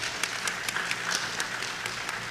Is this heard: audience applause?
yes